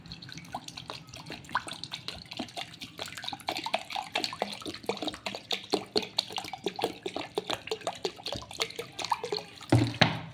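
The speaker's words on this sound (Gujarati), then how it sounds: "ચાલો પાણી એડ કરવાનું છે" Water pours into scooped-out bael fruit pulp in a bowl while making bael sharbat, giving a close, continuous splashing and dripping patter with irregular small spikes throughout.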